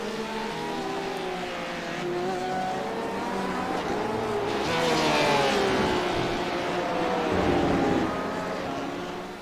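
GT race cars and GT4 sports cars in a sim racing event at Okayama, their engines droning and shifting pitch steadily throughout as cars pass close by, the roar swelling midway, with no talking.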